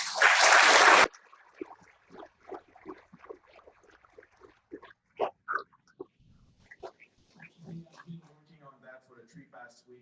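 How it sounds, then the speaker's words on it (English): A short, loud burst of audience applause at a cyber security panel on critical infrastructure cuts off after about a second, and a speaker talks over a quiet room for the rest. "I think we owe them another round of applause"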